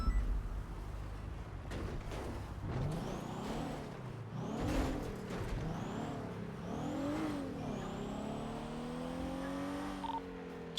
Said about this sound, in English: Still hear him. Motorcycle somewhere.